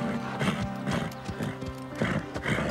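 A cartoon horse gallops with rapid, loud hoofbeats and lets out a neigh, the sound close and energetic throughout.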